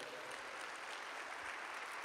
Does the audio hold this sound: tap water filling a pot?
no